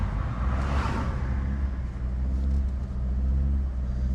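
A freshly rebuilt car engine with forged internals runs and revs under load, a steady deep rumble with a rising whoosh of acceleration near the start, continuous and close throughout.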